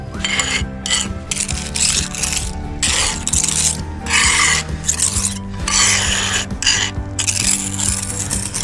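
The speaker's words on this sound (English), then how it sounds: "I get that point nice and level with the slab, using a point and trowel like that." A pointing trowel scrapes and smooths Sika Fast Fix joint compound into the joints of a porcelain patio, making close, gritty rasping strokes in a steady back-and-forth rhythm with brief gaps.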